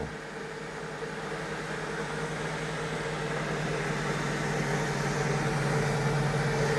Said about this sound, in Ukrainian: Це в нас он шумить чайник, шумить мікроволновка.